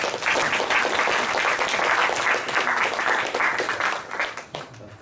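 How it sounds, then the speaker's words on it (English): An audience applauds warmly to welcome a physics lecturer, Professor Zhang Yuanhan, before his talk on the AMS-02 experiment. The clapping is full and steady, then thins and tapers off near the end. "let's give him a very big applause"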